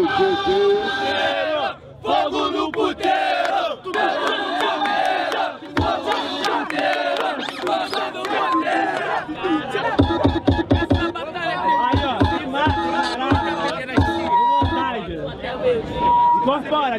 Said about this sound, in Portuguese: Barulho quem gostou da rima do MC Pelé